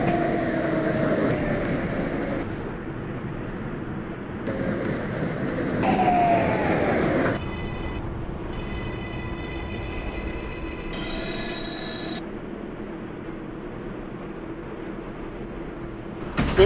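A New York subway 6 local train running toward Brooklyn Bridge: heard from inside the car with a rumbling ride, screeching wheel squeals, hissing brakes and a rising electronic motor whine, all loud and close.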